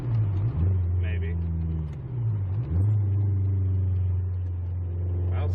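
A car on stock suspension with worn tires makes a loud, steady engine drone during a test drive, with the revs dipping and rising a few times as it goes.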